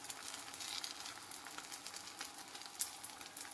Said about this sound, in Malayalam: ഇനി നമുക്ക് ഇതിലേക്ക് കുറച്ച് വെളിച്ചെണ്ണ തൂവി കൊടുക്കാം